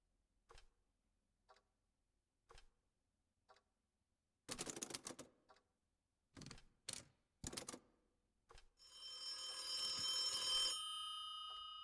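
In the video game The Occupation, several isolated ticks and clacks come first. A loud electronic telephone ring then sounds for about two seconds, fairly close, with no talking.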